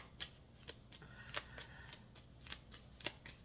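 Tarot cards shuffled by hand, a quiet, irregular run of soft riffling flicks and taps, close by, without any talking.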